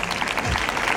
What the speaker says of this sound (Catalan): Me podeu aplaudir